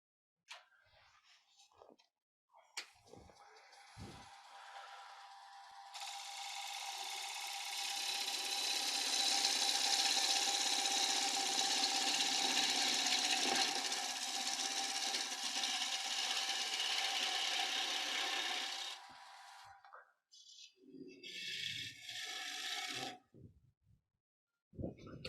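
A woodturning piece sanded with a star sanding pad on a lathe at a woodturners' club demo: a loud, steady, broadband rasping whir that holds for about fifteen seconds, bracketed by brief scuffs and handling noises, with no talk over it.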